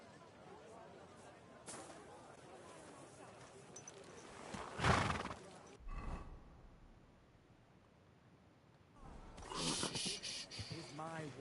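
A horse in Kingdom Come: Deliverance II gives one loud, drawn-out whinny midway, surrounded by snorts and clopping hooves, with a burst of busy noise near the end.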